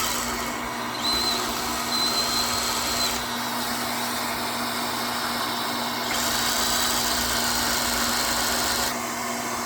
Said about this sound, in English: So I'm gonna drill that, and we're gonna install it.